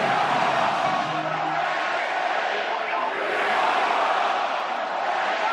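Steady, loud roar of a packed stadium crowd at a Penn State college football game against Oregon, a continuous wall of cheering and shouting with no breaks.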